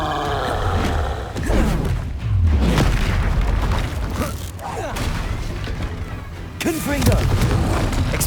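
Repeated Confringo blasting-spell explosions in Hogwarts Legacy gameplay, loud booming bursts layered with magical whooshes and game effects, dense and continuous across the stretch.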